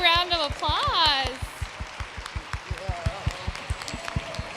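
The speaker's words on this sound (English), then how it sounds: "Let's give them a big round of applause" Audience applause at a conference plenary session, a steady wash of clapping under a speaking voice at first, then thinning to scattered individual claps that keep going to the end.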